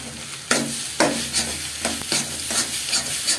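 An egg and chopped tomato mixture is stirred in a sizzling pan, with repeated loud scrapes of the spoon over a constant frying hiss, close and without speech.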